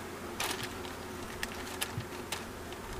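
Honey bees hum in a steady, fairly quiet drone around an open hive while a beekeeper fits a queen excluder and super, with a few brief sharp knocks and taps standing out.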